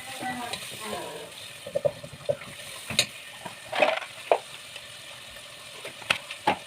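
Onion, green pepper and garlic frying in a pot, a soft steady sizzle with scattered stirring clinks and scrapes on top, fairly quiet and close.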